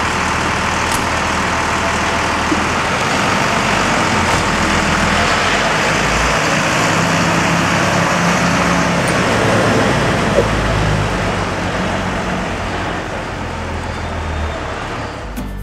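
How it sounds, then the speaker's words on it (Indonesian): Buses and passing traffic fill the Ponorogo bus terminal with a continuous low rumble of engines. The sound is steady and fairly loud, with no clear speech. "kita sampai di Terminal Ponorogo"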